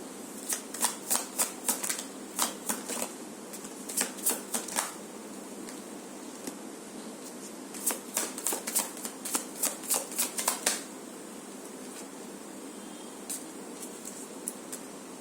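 A deck of cards is riffled and shuffled repeatedly in close, crisp bursts of rapid flutters with short pauses between rounds, and no one speaks.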